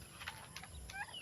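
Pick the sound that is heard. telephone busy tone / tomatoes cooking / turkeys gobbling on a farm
turkeys gobbling on a farm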